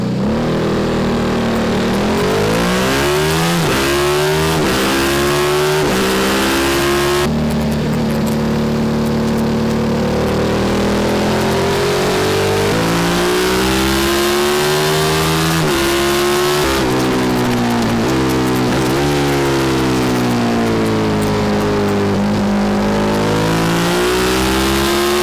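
Race car engines at Donington Park GP in the wet, loud and close, with repeated rising and falling revs through gear changes and overlapping cars, continuous for the whole stretch with no talk.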